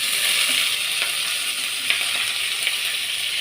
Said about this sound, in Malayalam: ക്യാരറ്റ്, ഉള്ളി, ബീൻസ്, പച്ചമുളക്, തക്കാളി, ഇഞ്ചി എല്ലാം കൂടെ ഒന്നിച്ചങ്ങിടാം.